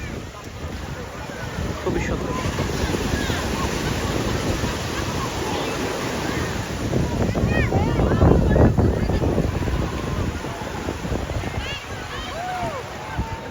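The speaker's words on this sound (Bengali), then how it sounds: "সমুদ্রের ঢেউটা খুবই চমৎকার লাগে, যে কোনো সমুদ্রের পাড়েই যান না কেন আপনি" Sea waves washing onto the beach at Cox's Bazar, Bangladesh, as the tide comes in, a steady broad roar of surf with heavy wind buffeting the microphone, swelling around the middle, while a person speaks briefly over it.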